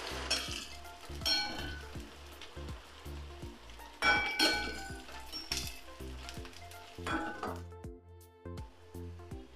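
Onion, crushed garlic and spice paste sizzle in hot oil for a mutton curry, with clinks of a spoon against the pot and bursts of louder frying as ingredients drop in, no voices.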